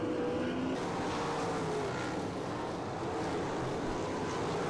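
Sprint race cars circle a track in a feature race, a continuous engine drone heard from a distance with tonal whines rising and falling as cars pass.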